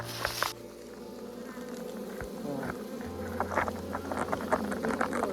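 Honeybees buzzing steadily and close by around a hive, a continuous droning hum with occasional light taps and rustles.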